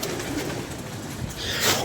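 Pigeons coo in a loft kept for pigeon flying, the soft calls blending into a steady murmur of birds close by, with a brighter flutter of sound near the end.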